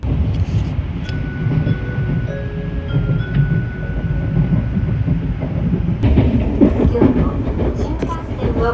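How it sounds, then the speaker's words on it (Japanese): A Kodama Shinkansen on the JR Central Tokaido line departing Nagoya station and running, a loud steady rumble with rising motor tones and a burst of rail clatter later on. "こだま号定刻で発車。"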